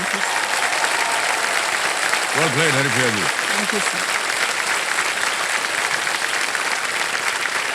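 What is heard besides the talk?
studio audience applause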